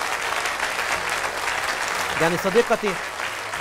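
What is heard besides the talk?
children's studio audience applauding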